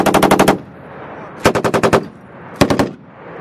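A machine gun fires short bursts of rapid, evenly spaced shots on a live-fire range during a Marine platoon attack exercise, three loud, close bursts separated by brief pauses.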